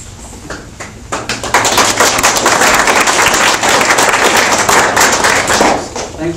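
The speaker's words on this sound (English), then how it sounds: "Thanks for the applause." An audience applauds at an engineering company's ribbon cutting ceremony, starting with a few scattered claps and swelling into loud, dense sustained applause before tapering slightly at the end.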